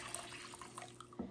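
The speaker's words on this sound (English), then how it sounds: "Add 2 1/4 teaspoons of dry active yeast to a mixing bowl, and then pour in your warm milk." Warm milk is poured into a mixing bowl holding dry active yeast for Parker House rolls, making a faint, steady liquid trickle that runs quietly for about a second and a half.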